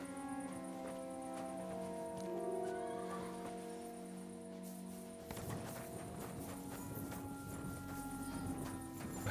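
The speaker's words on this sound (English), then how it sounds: "And I hear the horses." Horses in stables in Kingdom Come: Deliverance 2, hooves clopping and a faint whinny under a sustained tonal music bed that shifts halfway through, with no talk.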